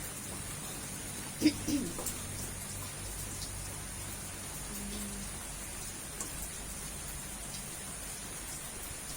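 Steady, soft rain patters continuously on a surface, with a couple of brief knocks early on.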